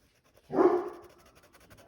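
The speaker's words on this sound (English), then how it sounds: "Uh-oh, there go the dogs." A dog gives a single close, loud bark that fades quickly, heard alone in an otherwise quiet room.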